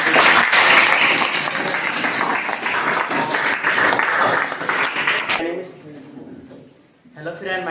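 Loud audience clapping at a speech event, dense and continuous before stopping abruptly, followed by a voice starting to speak.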